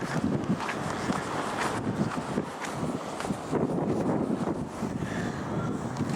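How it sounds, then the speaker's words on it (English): Gusting wind buffets the microphone outdoors, a steady loud rumble with irregular surges and no other clear sound standing out. "it's been too windy around here"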